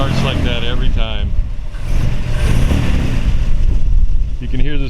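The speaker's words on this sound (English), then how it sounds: "You can hear the Smitties on it." A 1952 Chevrolet 2-door Deluxe survivor with a Fenton header and Smitty mufflers runs steadily nearby, a continuous low engine rumble, while people talk over it at the start and near the end.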